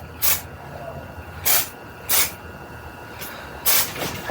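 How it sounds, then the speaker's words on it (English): Hair spray hisses onto hair at the scalp in four short bursts with quiet gaps between them, close and fairly loud. "I'm just using a very light working spray just to give me some lift up at the scalp where I need it."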